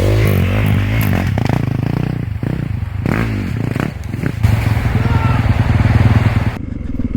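A motorcycle engine runs loud and close while the bike rides off-road over small sticks and debris, with rattling clatter and scraping from the terrain layered over the steady engine drone.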